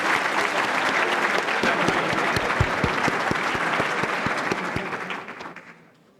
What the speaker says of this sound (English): If we can hold our applause until the person gets up